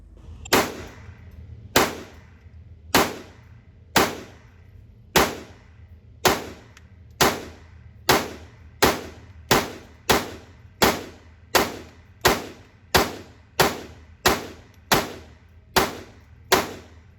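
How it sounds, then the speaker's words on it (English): A Taurus TX22 pistol fired rapidly through a magazine at an outdoor range, a series of about eighteen sharp, loud reports at a quick, slightly uneven pace, each ending in a short ringing decay, with no talk. "Up first is the 10-round mag, shooting just rapidly to show functionality of it."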